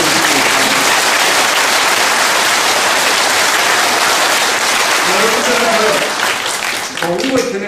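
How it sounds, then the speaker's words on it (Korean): A political rally crowd applauds loudly and densely in a sustained wash of clapping, with voices and cheers rising near the end as the clapping thins. "여러분들 자축 그리고 자신감을 담은 박수를 한번 서로 보내주시기"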